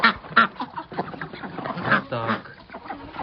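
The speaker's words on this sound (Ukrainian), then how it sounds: "Їж крякаєш вже, на." Farm ducks being fed quack in a lively cluster of short, nasal calls close by, with a person speaking among them.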